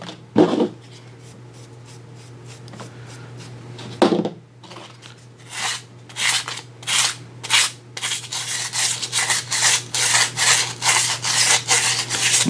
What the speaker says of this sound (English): And I'm just lightly sanding it.